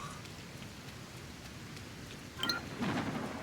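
Rain patters steadily through a thunderstorm in the video game Sengoku Dynasty, with a low rumble of thunder building near the end, moderately quiet throughout.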